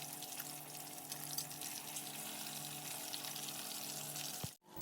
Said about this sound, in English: After frying the fish on both sides, I'm gonna flip them for the last time to the first side and fry them until they are dry and crispy.